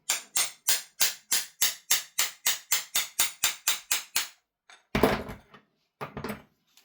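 A small tool taps an airsoft hop-up chamber for a VFC/GHK gas blowback rifle, about fifteen quick, evenly spaced metallic knocks close up, followed by a couple of heavier clunks and rustles.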